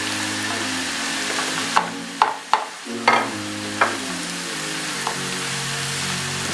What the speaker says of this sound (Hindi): इसे अच्छी तरह मिक्स करेंगे।